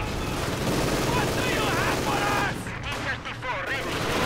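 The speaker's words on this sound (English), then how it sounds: "Another lethal barrage here." Artillery barrage in the video game Company of Heroes 2, a dense roar of gunfire and explosions mixed with in-game voices and battle noise, loud and sustained with a brief dip midway.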